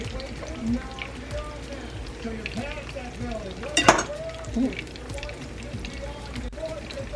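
Food fries in deep oil with a continuous crackling sizzle, while people talk nearby over it.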